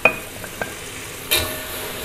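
Short scrapes of a utensil stirring goat stew (tongseng) in a pan over a soft background sizzle, with a few distinct clinks and a louder stir near the end.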